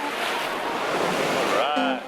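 Cool Atlantic ocean waves washing onto an empty beach, a steady broadband surf wash with wind, plus a brief tonal sound near the end.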